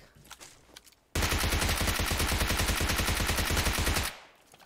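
Rapid automatic gunfire in PUBG Mobile erupts after a brief quieter stretch and keeps going as a dense, loud burst of shots for about three seconds before cutting off abruptly.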